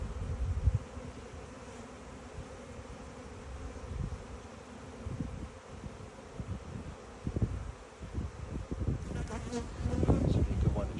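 Honey bees hum steadily around an opened beehive during an inspection, a dense close buzz with brief louder passes near the microphone and occasional handling rustles.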